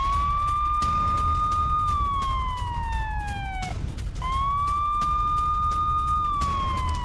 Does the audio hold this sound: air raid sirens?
yes